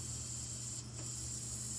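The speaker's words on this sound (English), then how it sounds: "I got a can of brake cleaner, which does the same thing, and you're gonna spray that in there" A short hissing spray of aerosol brake cleaner bursts briefly over a steady low mechanical hum, close by, on a 2017 Chevy Express van with a crank-no-start fault.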